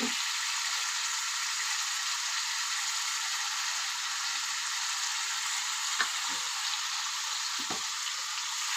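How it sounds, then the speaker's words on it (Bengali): Bombay duck fish frying in spice masala, a steady, dense sizzle that runs without a break, with a couple of faint utensil taps near the end and no one talking. "এখন আমি লোটে মাছটা দিয়ে দেবো।"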